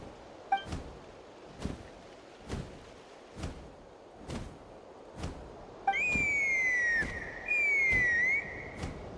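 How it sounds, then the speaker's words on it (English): A whistle in the Genshin Impact video game, a bright rising tone that holds and slides down, then sounds a second time. Soft regular thumps repeat underneath throughout. "That sounded like a whistle."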